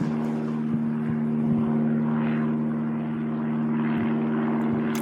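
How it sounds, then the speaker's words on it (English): A helicopter passes overhead, giving a steady, fairly loud engine drone with an even, continuous hum that holds for the whole stretch without pause and with no voices. "And there's a helicopter."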